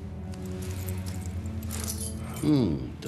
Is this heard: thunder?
no